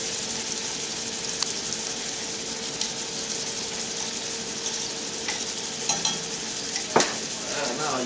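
Onions and green pepper fry in oil in a home kitchen pan, a steady close sizzle running throughout, with a few light clinks of a utensil near the end and no talk.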